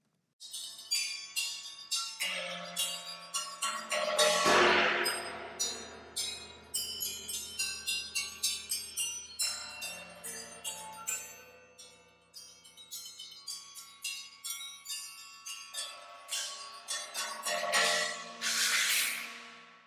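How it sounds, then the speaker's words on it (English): Many bells struck one after another, bright metallic tones ringing and overlapping with long shimmering decays, building into dense clusters then thinning out. "with these bells, there's lots of different kinds of resonance"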